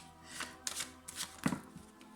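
Tarot cards being shuffled for a monthly reading, several quiet riffling bursts close by with pauses between them, no speech over the handling.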